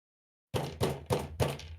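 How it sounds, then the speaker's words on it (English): Four heavy knocks bang on a door in a slow, even rhythm after a brief silence, close and solid. "all of a sudden you hear a bang on the door"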